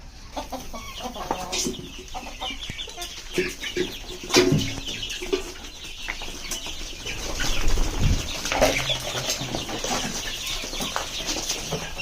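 Chickens cluck and squawk close by while wings flap in brief flurries, with scattered rustling and movement throughout a busy, noisy coop.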